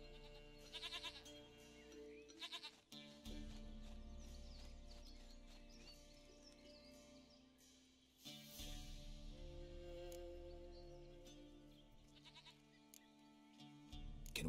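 A goat in The Witcher 3 video game bleats in several loud, close calls, with long wavering cries separated by short pauses.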